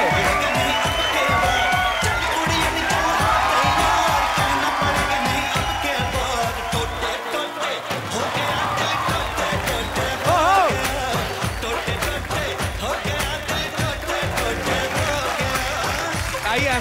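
A studio audience on an Indian TV comedy show cheers and claps loudly and steadily as a famous Punjabi singer is welcomed, a dense crowd roar with whoops that runs the whole way through.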